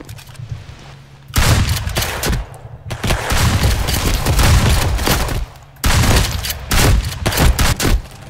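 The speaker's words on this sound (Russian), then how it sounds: "Просто я в одного выстрелил из шотгана, и потом начал гасить второго." Loud gunfire from the Roblox game Robber, with shotgun blasts and rapid bursts of shots in dense, overlapping volleys, broken by brief pauses before the firing resumes.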